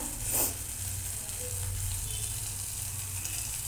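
Spice masala sizzling steadily in hot oil for a vegetarian chickpea and green pea curry, a continuous close frying hiss with faint stirring, no voices.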